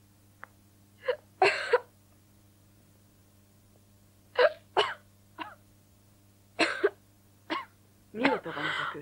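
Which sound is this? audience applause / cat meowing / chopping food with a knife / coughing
coughing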